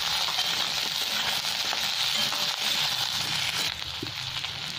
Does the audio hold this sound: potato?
yes